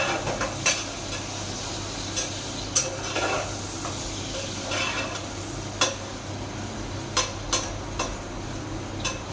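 Peas go into a frying pan with fried onion for a soya vegetable pulao and are stirred: a continuous close sizzle broken by sharp clicks and scrapes of a spoon against the pan. No one speaks.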